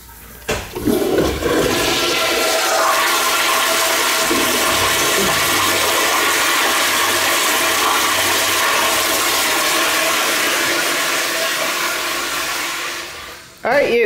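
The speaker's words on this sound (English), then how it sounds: "Or flush one more time?" A public restroom toilet, an American Standard fixture, flushes with a loud, steady roaring rush that holds for about twelve seconds before cutting off abruptly, with a faint voice at the very start.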